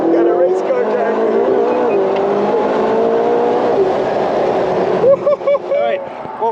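McLaren 675LT supercar engine droning steadily with shifting pitch as it trail brakes into a corner, loud and close, ending in a few choppy revving bursts, with talk mixed in.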